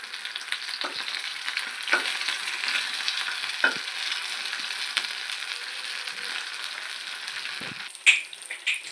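Sandhuva fish fries in a pan with soft, continuous sizzling and crackling, interrupted by a few sharper taps and scrapes as the pieces are turned.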